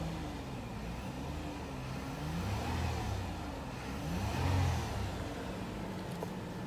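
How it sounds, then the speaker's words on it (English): A 2004 Lexus ES330 engine idles with fresh oil after an oil change, then two moderate revs swell and fall back, heard up close and steady with no talking. "Give it a little rev."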